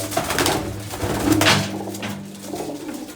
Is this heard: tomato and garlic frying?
no